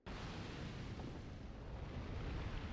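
Primal bomb detonating in Dark Souls 2, a loud continuous rumbling roar that erupts suddenly and holds steady without a break.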